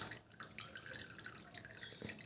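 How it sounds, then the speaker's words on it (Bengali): Black tea and onion remedy dripping and trickling as it is strained into a bowl, a faint, close, steady patter of liquid drops with no voices. "এবার কিন্তু আমি রেমেডিটাকে ছেঁকে নেব এই বাটিটার ভিতরে"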